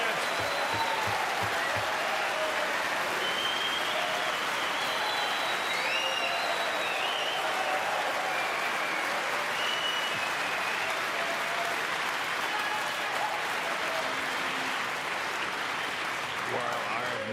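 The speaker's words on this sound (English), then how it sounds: "I have never heard an applause like that for someone getting out of a snooker" Warm, sustained applause from the snooker audience at The Masters 2025 during Mark Allen versus Si Jiahui, even and continuous across the arena with faint voices mixed in.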